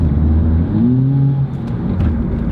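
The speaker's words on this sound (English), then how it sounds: "when that transmission starts slipping" A Mazda four-cylinder car engine revs loudly and close up while its transmission slips, the pitch climbing and sagging in uneven surges.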